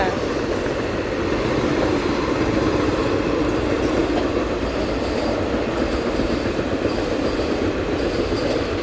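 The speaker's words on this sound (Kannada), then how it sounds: "ಟ್ರೈನ್" A train rumbling past close by, with a dense, steady roar of wheels and carriages and faint squeals that stay loud throughout.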